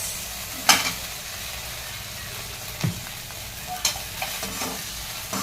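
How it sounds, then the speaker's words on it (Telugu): Spatula stirring chili sauce into egg fried rice in a hot pan, with a steady sizzle underneath and a few sharp scrapes and knocks against the metal, close and fairly loud. "చిల్లీ సాస్ వేసుకొని కలుపుకోవాలి"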